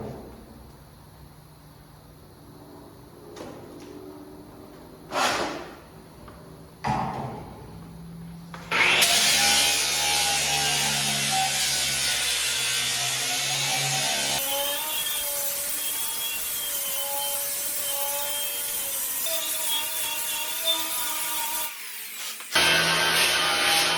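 A grinder works over welded metal for a custom range hood, starting with a few short bumps and clatters before a loud, sustained grinding whine runs for over ten seconds and then cuts off. No one speaks.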